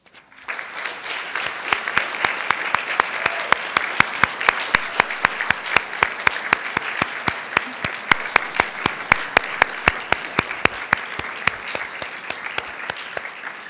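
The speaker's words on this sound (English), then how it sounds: "join me in a round of applause for all those important people who have made this day" Sustained applause from a large commencement crowd honoring graduates' families, dense steady clapping lasting throughout without a break.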